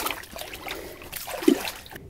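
A lake trout caught ice fishing on Cold Lake is slipped back into the water, giving a soft, close trickle and one small splash.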